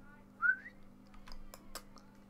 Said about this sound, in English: sorry if that whistling hurt anyone's ears